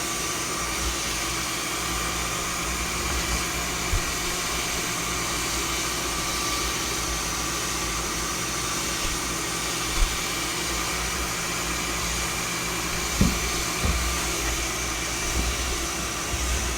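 A diode laser cuts out a wooden dog tag, a steady whirring hum of fans and machine running throughout, with a few faint clicks and knocks over the drone.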